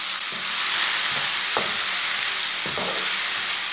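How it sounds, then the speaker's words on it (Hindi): Chopped tomatoes cook in a hot pan, a steady loud sizzle with several scraping stirs of a utensil at irregular intervals, no talking. "टमाटर डाल के तीन मिनट तक पका लेंगे।"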